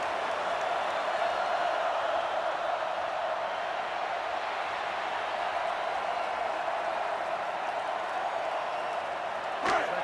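A football video game's stadium crowd, set at a 2005 college game between Ohio State and Notre Dame, roars as a steady, dense wash of cheering throughout, with a brief sharp accent near the end.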